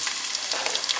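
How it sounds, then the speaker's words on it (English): Garlic and onions frying in hot oil over medium heat, a steady soft crackle and hiss for about a second, close and fairly quiet with no talk. "add the garlic and the onions and fry until the onions are translucent"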